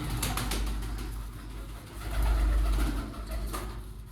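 Pigeons coo repeatedly in low, throaty murmurs in a coop, close by, with a faint rustle of birds in the background.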